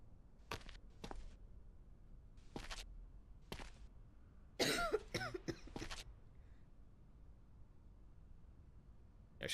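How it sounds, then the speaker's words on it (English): Repeated coughing from a patient in a medical video game: several short, sharp single coughs spaced apart, then a louder rough cluster of harsh coughs, close and clear against a quiet background. "She's just coughing."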